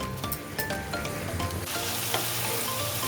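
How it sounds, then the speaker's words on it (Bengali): Spice masala with salt, garam masala and pepper sizzles steadily in hot oil for prawn malai curry, with the scrape of stirring over the frying. "দেখো মশলা আমার প্রায় ভাজা ভাজা হয়ে এসেছে"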